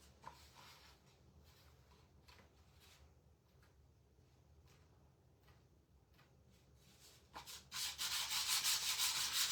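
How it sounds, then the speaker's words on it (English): Sanding a wooden beadboard sign for a rustic farmhouse piece, heard as soft, intermittent rubbing strokes that build to a louder, steady scratchy sanding near the end. "Sand it again."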